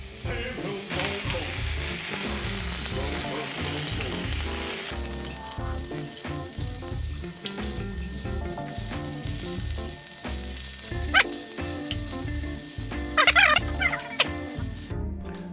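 Peppercorn steak searing in a pan, a loud continuous sizzle with crackling spatters and a few sharper bursts toward the end, no voices.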